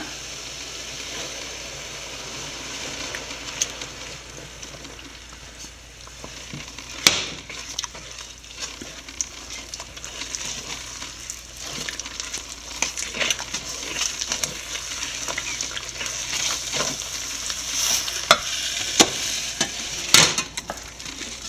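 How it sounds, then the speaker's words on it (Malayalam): Rice flour is stirred and kneaded into boiling water in a pot, giving steady scraping and thick mixing noises with scattered knocks of the spoon against metal, close and without speech. "ഇതിലോട്ട് പൊടിയിട്ട് കുഴയ്ക്കുകയാണ്"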